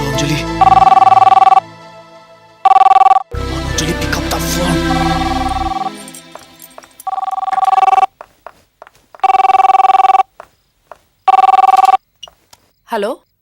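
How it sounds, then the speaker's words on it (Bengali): A telephone bell rings loudly in repeated bursts, broken by a stretch of other sound and brief noises, with a final short ring near the end. "এখন আবার কে ফোন করছে"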